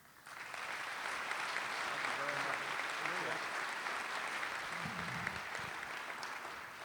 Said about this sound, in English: the perfect time to have you join me in welcoming our Commissioner of Agriculture, Adam Putnam.